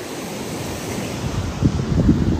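Ocean waves wash along a Canary Islands shore, a steady broadband wash with wind noise over the microphone, swelling into a few louder surges toward the end.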